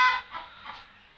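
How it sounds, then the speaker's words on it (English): Backyard chickens cluck in a short burst, a few squawky calls fading quickly, moderately close and fairly quiet, with no talking. "you're hearing my dad's chickens because he has chickens and they're noisy"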